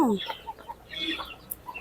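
Chicks cluck and peep in short bursts close by, a few high chirps scattered over soft background noise.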